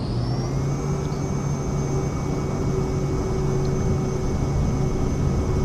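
The engine of a Vision Jet at takeoff power in Microsoft Flight Simulator 2024 gives a constant, dense roar with a high steady whine above it, heard on its own for the whole stretch.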